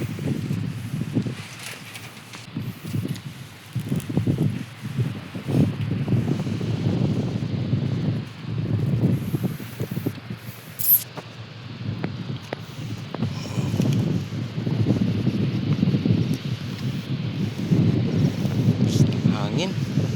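Typhoon wind by the sea, gusting in repeated low rumbling bursts of microphone buffeting that rise and fall throughout, fairly loud and close, with no talk over it.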